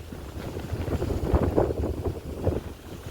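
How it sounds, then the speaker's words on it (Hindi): Wind blows through a village in rural India, heard as low, rumbling gusts buffeting the microphone, swelling and easing in a steady, close, unbroken rush. "खाली हवा चलती सब है"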